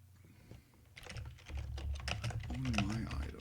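Typing on a computer keyboard, quiet at first, then a fast, busy stream of close key clicks over a low background hum, with a faint voice partly under it.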